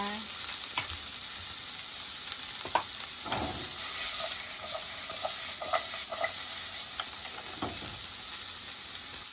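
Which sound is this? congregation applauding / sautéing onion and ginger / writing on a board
sautéing onion and ginger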